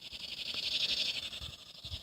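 A grasshopper chirp played from a baby's sound book: a rapid, high, pulsing trill heard up close for a couple of seconds.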